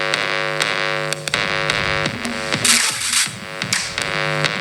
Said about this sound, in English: dirty, distorted bass line that kind of sounded like this a little bit